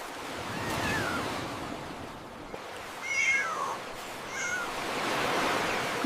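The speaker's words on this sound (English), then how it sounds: "Be careful near the waves." Ocean waves wash in a steady, rolling hiss that swells and eases, with a couple of soft cat meows rising above the surf.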